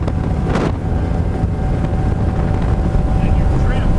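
A 300 HP outboard drives a 2012 Checkmate 24 speedboat across open water, a loud steady engine roar mixed with rushing water and heavy wind buffeting, with people talking over it.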